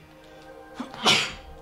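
One sharp human sneeze erupts close to the mic after a brief inhale, quick and breathy, set against a quiet room during a co-op Tetris game.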